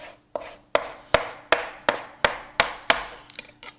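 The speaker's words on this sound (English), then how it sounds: "And we're just going to go across like that. Okay, just rough chop." Knife rough-chopping bacon on a cutting board: about nine sharp, evenly spaced wooden thunks, close and crisp, the last few quicker and lighter, with no voices.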